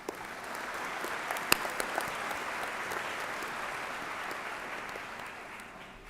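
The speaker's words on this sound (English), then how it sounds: "Give a round of applause to our staff and faculty, please." At a high school graduation ceremony, the audience gives a round of applause for the staff and faculty, a sustained crowd clapping with a few sharper individual claps standing out, gently fading at the end.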